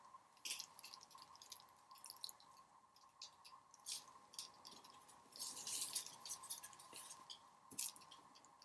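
Irregular soft drips and wet squishing of mixed resin and paint dripping while finishing a tabletop, close and quiet, with small splats scattered throughout and no talking.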